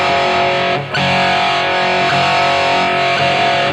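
Electric guitar played through a distortion effect on STL AmpHub amp software, a loud, thick sustained tone ringing continuously with a brief dip near the start.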